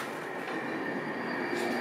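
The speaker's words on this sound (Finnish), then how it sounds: "Oho, juna tuli just." A train rolls past on a snowy day, a continuous close rumble and rattle of rail wheels with a faint high squeal, holding steady throughout without talk.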